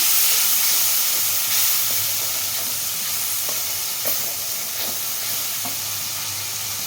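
Chilli powder and cumin powder fry and get stirred in a hot pan, giving a steady loud sizzle with a few soft scrapes of the spoon through the spices.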